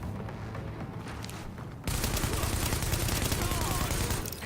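Video game gunfire in The Division, first a lighter stretch of shots, then sustained loud automatic fire with booming impacts for the second half of the clip.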